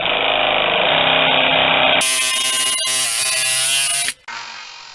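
Belt grinder running a 120 grit belt against knife handles in a workshop, giving a loud, continuous abrasive whine with a brief change in tone near the end.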